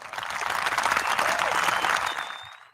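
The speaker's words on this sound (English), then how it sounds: "Let's give a round of applause to both our guests today." An audience gives podcast guests a round of applause, a dense burst of clapping that swells, holds for a couple of seconds, then quickly tapers off.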